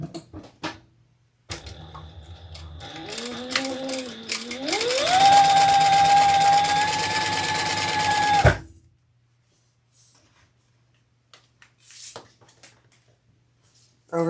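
A domestic sewing machine stitches crossbody bag pieces together in one sustained run, whirring up to a steady high-pitched motor hum, then stops abruptly, leaving near silence with faint handling noises.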